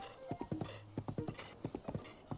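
Horse hooves clip-clop in Zelda: Breath of the Wild, a steady run of close, crisp hoof beats in uneven pairs, with a faint game music hum underneath.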